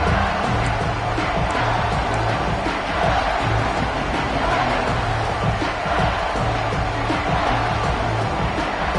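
A big stadium crowd at a college football game keeps up a loud, continuous roar of cheering behind the defense, with a broadcaster's voice faintly mixed in.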